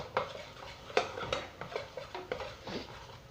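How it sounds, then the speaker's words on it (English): A butter and flour roux is stirred in a pan, a utensil scraping and clinking against the metal in quick, uneven strokes, close up with no talk. "we're just going to cook that butter and flour down a wee bit. Just keep stirry. Keep stirring it about there."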